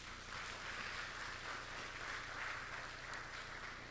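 A church congregation gives a faint, even wash of applause that holds steady for several seconds, sounding distant and soft throughout.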